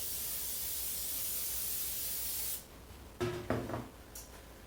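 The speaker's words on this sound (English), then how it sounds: "we're going to spray the pan," Cooking spray hisses in one steady, loud burst onto the sides and bottom of a baking pan for a couple of seconds, followed by a few short knocks and clatters as the can is set down.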